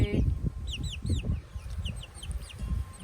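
Several hens cluck and murmur close by in short bursts, with a few higher chirps from other birds in the background.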